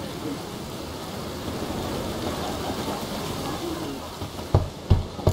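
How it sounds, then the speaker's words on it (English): Rain falls steadily in The Witcher 3, a soft wash of drops with low rumbling underneath, and a few sharp knocking hits near the end. "Looks like rain."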